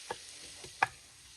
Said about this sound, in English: I'm going to mix the yogurt into that and quickly take it out.